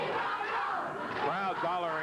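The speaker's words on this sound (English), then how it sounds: "Crowd's hollering, we want Paul." A 1986 Memphis championship wrestling crowd hollers and chants in unison, many loud voices rising and falling together, with a commentator speaking over them.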